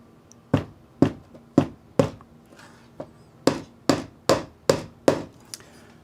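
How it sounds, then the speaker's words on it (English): A small hammer taps track pins into an N scale model railway, about ten sharp, evenly spaced knocks with a brief pause partway through. "Don't hammer it down till it pinches the rail."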